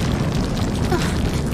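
A giant tremor rumbling in the action game The 3rd Birthday: a steady, dense low roar with a crackling texture, continuous and fairly loud across the whole short stretch, with no voices.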